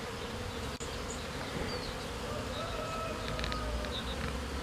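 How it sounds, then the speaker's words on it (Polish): Honey bees buzzing at a small August nucleus hive, a steady close drone of many wings with occasional individual bees flying past, no talking. "Tu mam pszczółki w takim minim odkładziku ze sierpnia"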